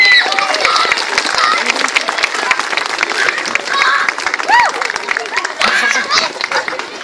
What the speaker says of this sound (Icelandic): Við skulum gefa henni gott klapp!